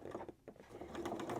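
A sewing machine stitching a pencil skirt, a close rapid mechanical whir with a brief pause partway through before the stitching runs on steadily.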